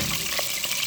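Chicken pieces fry in a mix of oil and melted butter, a steady close sizzle and hiss with a few soft pops and no talk.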